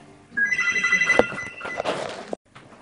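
A telephone rings during a jelly bean taste challenge, a bright repeating electronic ring lasting about two seconds, with a thump partway through, a short trailing noise and quiet room sound afterward.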